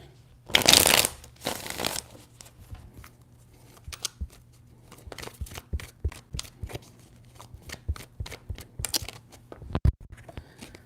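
Tarot cards being shuffled by hand close up: a loud riffling burst opens, a second follows, then quieter bursts of slapping, patting card sounds come at irregular intervals.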